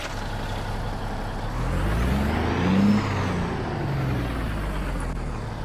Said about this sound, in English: go ahead and cut on the engine and see how it sounds